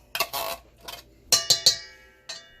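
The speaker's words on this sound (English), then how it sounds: "Sorry about that clinking." Dishes and cookware clink in a kitchen while chicken and dumplings are being cooked, with a handful of sharp, close metallic and ceramic knocks in an uneven rhythm and short pauses between them.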